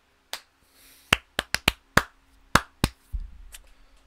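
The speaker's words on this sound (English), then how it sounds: "My cousin in the background finished the clap." Sharp hand claps in the background, about nine crisp separate hits in an uneven rhythm, fairly close and clear against near silence, followed by a brief low thump.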